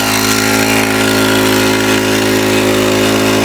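A small engine with a fully automatic carburetor idles steadily and loudly up close, a constant droning hum with no pauses or voices.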